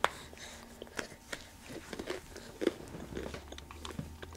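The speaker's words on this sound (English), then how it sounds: "Are you too busy chewing?" A small child chewing Cheerios cereal up close, with soft crunching bites and wet munching in an irregular rhythm and faint voices in the background.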